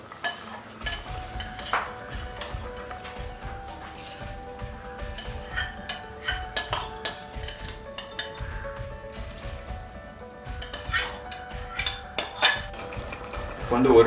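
Rice is added to boiling water in a cooking pot for tomato rice, with close clinks and scrapes of a utensil against the metal pot and a soft bubbling underneath at a moderate level.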